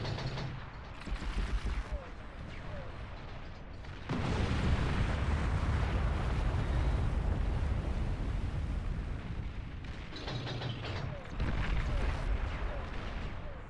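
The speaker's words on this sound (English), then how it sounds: "Fire the nukes" Nukes launching in the strategy game Beyond All Reason, a long roaring blast that swells and sustains for several seconds between shorter rumbles, with people talking over parts of it.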